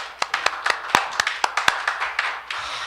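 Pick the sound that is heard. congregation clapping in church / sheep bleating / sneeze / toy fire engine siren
congregation clapping in church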